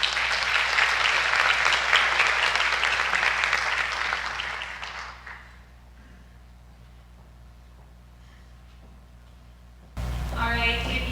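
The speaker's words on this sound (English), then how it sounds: "let's give a big round of applause to Maria Ong" Audience at a National Honor Society induction ceremony applauds Maria Ong with loud, dense clapping that fades out after about five seconds into quiet room tone, then a burst of speech-like sound at the end.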